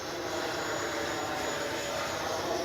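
An FMS Avanti S 90 mm electric ducted fan RC jet whines in flight, a steady, even rushing roar from a distance with no voices.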